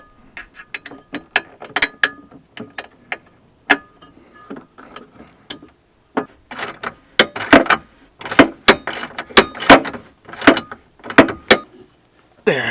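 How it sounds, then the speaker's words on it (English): A hex key fastens bolts on an aluminum tire carrier being installed on a Jeep JL, giving sharp metallic ratcheting clicks and clanks in irregular bursts, sparse at first and then denser, close and loud with no speech. "using an Allen wrench or a hex key, we're going to go ahead and fasten these guys in"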